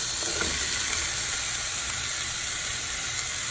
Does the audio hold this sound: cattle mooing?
no